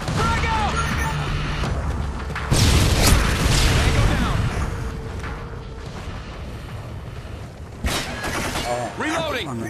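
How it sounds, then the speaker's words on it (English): Gunfire in a Modern Warfare 2 Search and Destroy match on the Trailer Park map: dense, loud bursts and booming impacts with mechanical clatter, easing off and then returning with a sharp burst, while players talk over it throughout. "I'm getting shot at."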